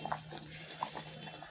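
Water splashes and trickles into a pot of mutton curry being cooked on the stove, a faint, brief liquid pour with a couple of small splashes.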